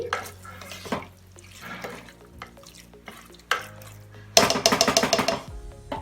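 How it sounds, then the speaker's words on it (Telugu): Tomatoes being stirred into a mutton curry in a pot, with repeated scraping and clattering strokes of a spoon against the vessel and a louder burst of rapid clinking near the end, no talk. "టమాటాలు కూడా ఒకసారి కలుపుకొని మెత్తగా మగ్గనివ్వాలి."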